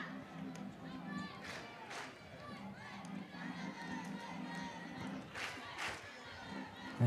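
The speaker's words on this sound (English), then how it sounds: "Fans are clapping because they are happy for sure as the Bulldogs lead 2-0." Fans at a college softball game cheer and clap in the stands, a broad crowd murmur with scattered shouts and bursts of applause, carrying on steadily at moderate distance.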